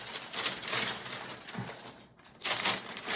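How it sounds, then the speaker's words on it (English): Shopping bags rustling and crinkling close by as stationery from Japanese shops is unpacked, a steady soft crackle with a brief lull before it picks up again. "I'm just going to take some things out of the bags here."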